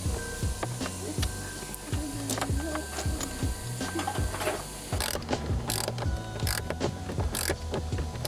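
A ratchet tightens bolts with fender washers on a KFLO track mount, its close clicking pawl ticking in quick bursts with short pauses, a few sharper knocks and creaks near the end.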